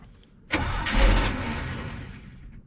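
The engine of a 1968 GMC truck catches abruptly as the clutch is popped, then roars up loudly, holds for a moment and settles back toward idle.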